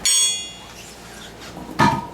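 A tire iron levered against the tire bead on a pre-war Rolls-Royce wheel gives a sharp ringing metallic clang that decays, followed by a second dull knock as the tire pops off.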